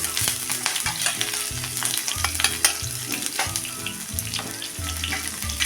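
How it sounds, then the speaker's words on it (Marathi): Green chillies and asafoetida frying in hot oil, a steady close sizzle with crackling pops and scraping stirring throughout, no talking. "हे आता मिनिटभर परतून घेऊया"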